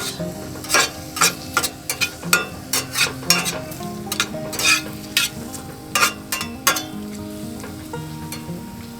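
Olive oil cooking in a cast iron skillet, with a steady low sizzle broken by repeated sharp scrapes and clatters of stirring, close and fairly loud, no voices.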